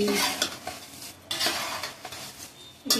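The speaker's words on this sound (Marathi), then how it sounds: "थोडं त्याचं मॉइश्चर निघूनपर्यंत आपल्याला कुरमुरे कडक करून घ्यायचं." Puffed rice roasts in a pan and is stirred with a spoon, giving a continuous close scraping, rustling churn with rhythmic strokes and a light crackle underneath, with no talk.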